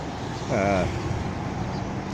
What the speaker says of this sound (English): And it can get very noisy, of course. It's got lots of traffic.